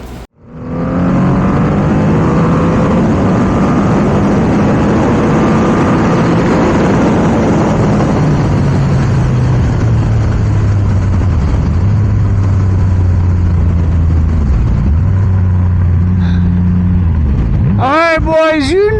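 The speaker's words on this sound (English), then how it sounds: "We got to get this thing out and rip it on the street" Triumph Rocket 3 motorcycle with a tuned, horsepower-boosted engine accelerating hard on the street, a loud continuous engine roar rising and falling through gear changes for the full length, close and dominant.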